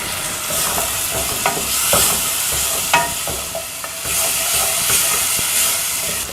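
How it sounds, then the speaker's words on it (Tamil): Green chili paste is stirred and sautéed in a hot pan for a corn makhani, giving a steady, close sizzle and hiss broken by scraping strokes of a spoon, with no talking. "ரெண்டும் நல்லா பச்சை வாசனை போகிற வரைக்கும் வதக்கணும்"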